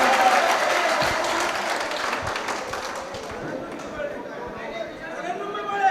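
Audience at a ghazal recital breaking into sustained applause, dense clapping mixed with crowd chatter that gradually thins and softens toward the end.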